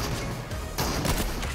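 Gunfire in the Fortnite video game, a dense burst of loud, sharp shots layered over constant game noise, with a stronger cluster of impacts in the second half.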